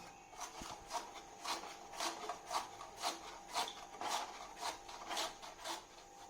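A cassava root is shaved into long thin strips for chips, giving about a dozen soft, rhythmic rasping scrapes at a steady pace. The strokes are close but quiet, and no one speaks.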